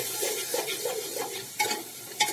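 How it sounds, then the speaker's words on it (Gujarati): Green peas, pigeon-type beans and green chickpeas with dry onion and green garlic cook slowly in oil, giving a steady soft sizzle with repeated stirring scrapes and two sharper utensil knocks near the end. "ધીમા તાપથી સરસ રીતે સૌપ્રથમ આપણે તેલમાં પાકવા દેવાના છે"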